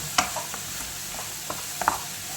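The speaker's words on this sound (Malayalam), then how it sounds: "ഉഴുന്ന് പരിപ്പ് നമുക്ക് ഈ വെജിറ്റബിളിനോടൊപ്പം തന്നെ നന്നായിട്ടൊന്ന് വഴറ്റാം" Vegetables and urad dal sautéed in a pan give soft sizzling under a few scattered stirring scrapes and clinks from a spatula, faint and close.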